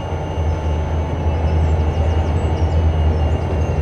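Zephyr train running on railway track in the video game Trainz 22, a loud, steady low rumble and drone with no talking.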